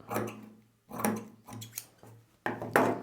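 Scissors snip through blouse fabric, cutting a side-fitting shape in several short bursts with brief pauses between, close and fairly quiet, with no talking.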